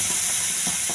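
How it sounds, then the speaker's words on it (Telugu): Mustard-and-spice tempering frying in hot oil for an amaranth-leaf dal gives a steady, loud, close sizzling hiss throughout, with a few soft stirring scrapes and no talking. "తాలింపు బాగా వేగింది"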